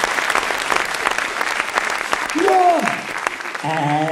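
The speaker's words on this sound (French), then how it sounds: "Et là, généralement, le public, il applaudit." An audience at a comedy show in the Ch'ti style breaks into steady, dense applause that carries on for several seconds, with a voice rising over the clapping near the end.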